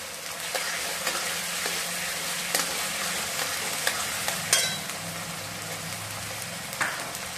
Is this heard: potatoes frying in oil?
yes